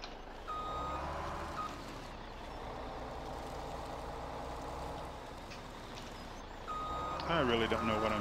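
Reversing beeps from a truck-type farm vehicle in Farming Simulator 17 repeat steadily through an off-road drive, set against a loud, constant engine drone, with someone talking over them.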